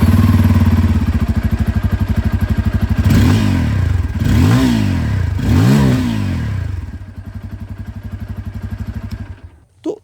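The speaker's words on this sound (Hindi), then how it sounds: "तो ये था यहाँ पर N250 की आवाज़" Bajaj Pulsar N250 motorcycle with a dual-barrel exhaust, idling with a rapid steady thrum, then three sharp throttle blips rising and falling before it settles back to idle and cuts off near the end.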